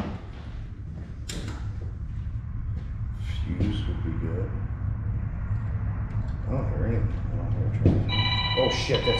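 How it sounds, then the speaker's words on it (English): A phone rings with a bright electronic tone near the end, heard during furnace electrical work with no power, above a steady mechanical hum and some scattered knocks and handling noises. "my hands are in the electrical and my phone rings"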